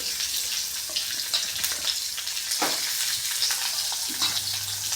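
A generous heap of onions sautés in a pan, a dense, continuous sizzle broken by a few scrapes and stirs, heard close and alone without any voices.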